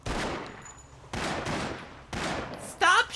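Gunfire rings out in The Sopranos: Road to Respect on PlayStation 2, three sharp loud bursts about a second apart, each trailing off, followed by a brief shout.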